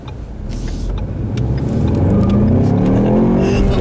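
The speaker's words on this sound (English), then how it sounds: "I'll leave you guys with a nice little acceleration here, like I always do." A rear-wheel-drive Ford Mustang accelerates hard, its engine note rising steadily in pitch and growing louder over a few seconds, heard close from inside or near the car.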